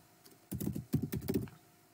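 Fingers tap out a quick, close burst of keystrokes on a computer keyboard in a quiet room, two short runs of rapid clicks with no talking.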